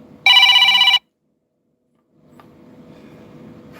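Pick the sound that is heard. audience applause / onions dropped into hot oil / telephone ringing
telephone ringing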